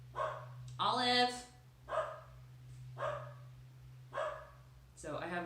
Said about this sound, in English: So I have a Beagle Dachshund mix, and she has a really loud bark.